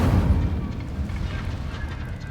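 The Incendio fire spell cast in the Hogwarts Legacy video game: a dense, loud burst of roaring, crackling fire with a heavy low rumble at the start, fading only a little over two seconds.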